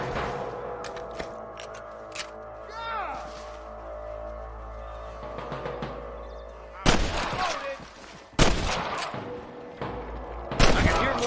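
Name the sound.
gunshots in a video game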